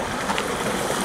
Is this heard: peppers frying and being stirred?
no